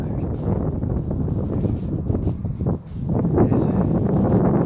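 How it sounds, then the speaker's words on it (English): Wind gusting across the exposed hilltop of Arthur's Seat, a steady broadband roar with buffeting on the microphone, dipping briefly near the middle then swelling back loud and close. "the wind is helping me cool off"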